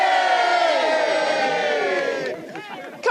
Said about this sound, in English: Let's give a big cheer for the dads,